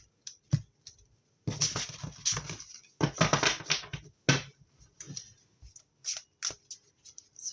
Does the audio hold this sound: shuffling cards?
yes